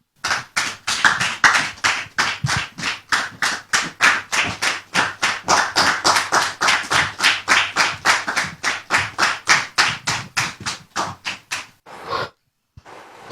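An audience clapping in a steady, even rhythm, a long run of sharp, closely spaced claps that holds its tempo for about twelve seconds before breaking off with a couple of stray claps.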